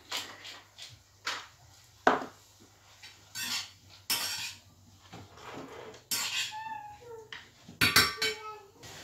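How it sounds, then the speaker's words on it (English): The back of a spoon presses and knocks against a pan while butter beans are mashed, scattered clinks and soft thuds at irregular intervals, close and moderately loud, with a faint low hum underneath. "slowly start mashing them down with the back of your spoon"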